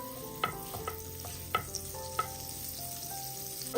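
Butter melting in a pan over a low flame, a quiet steady sizzle with a few light clinks of a utensil against the pan and a short louder scrape at the very end.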